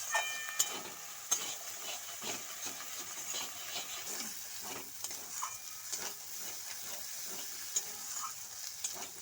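Spices cooked with salt and turmeric for a Bengali prawn malai curry, sizzling softly in a pan while a spatula stirs and scrapes in irregular strokes. It is close but quiet, with no speech.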